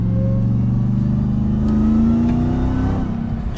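A 2022 RAM TRX pickup with a 700-horsepower engine revs hard on a quick paddle-shift downshift, a loud, continuous engine roar that climbs in pitch and then eases off, heard from inside the cab with no talking.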